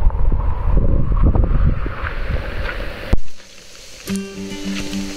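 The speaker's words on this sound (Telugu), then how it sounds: "ఫుల్లు గాలి, భయంకరమైన వర్షం." Strong wind with heavy rain in Lankamala forest buffets loudly and continuously. The sound then cuts abruptly to a quieter passage with a steady low hum and a few soft thumps.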